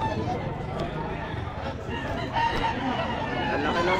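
A rooster crows at the crowded Sunday Grotto pet market, loud against clucking fowl and the chatter of people talking nearby.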